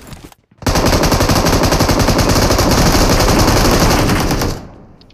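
Sustained automatic gunfire in the mobile battle royale game BGMI, a dense rapid rattle of shots running loud and continuous for about four seconds before cutting off, with no talk over it.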